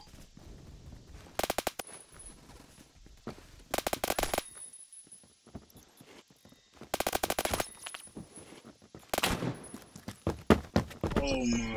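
M4A1 rifle fire in the video game Phantom Forces comes in four separate bursts of rapid automatic shots, with quieter gaps between them and busier, denser firing near the end.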